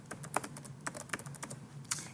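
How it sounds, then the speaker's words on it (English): Quick, light keystrokes on a computer keyboard as a spreadsheet title is typed, an irregular patter of a dozen or so close, soft clicks with no voices. "I can begin to start typing my title"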